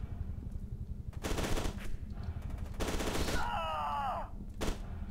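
Gunfire in the video game F.E.A.R. comes as two or three loud automatic bursts separated by pauses, with a whining game sound effect between them over a low background hum.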